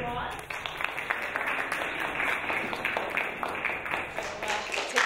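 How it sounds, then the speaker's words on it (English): A seminar audience claps for a guest speaker at a business society session on interview skills, a steady wash of many hands lasting several seconds at moderate volume, with some voices underneath. "So why don't you all give her a nice round hand of applause."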